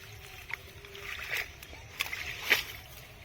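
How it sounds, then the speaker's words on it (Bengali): Fish thrashing inside a fishing net in water, with a few sharp splashes and sloshes, one near the start and louder bursts toward the end, over a quiet outdoor background. "মাছ পড়ে জালের ভিতরে তোড়পাড় করবে।"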